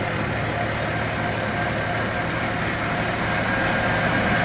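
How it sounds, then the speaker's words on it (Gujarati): A tractor engine drones steadily as the tractor picks up speed on a proper road, a continuous, fairly loud rumble with no pauses throughout. "હવે ટ્રેક્ટર સ્પીડ પકડી રહ્યું છે કેમ કે રસ્તો આવી ગયો છે પ્રોપર."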